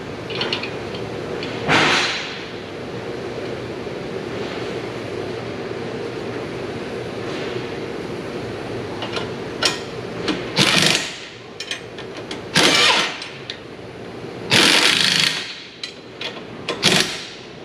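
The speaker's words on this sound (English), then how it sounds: "let's tighten these two nuts here" Nuts on a Hyundai Kona EV wheel hub being run down with a power tool during driveshaft and wheel bearing work, with short loud rattling bursts spaced over a steady mechanical hum and no talk.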